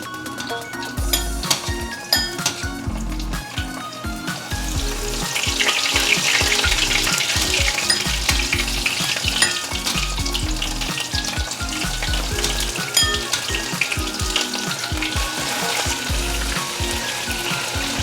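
Green peppers coated in soy milk and flour deep-fry in hot oil, a loud steady sizzle and crackle that swells partway through, with occasional utensil clinks and no talking.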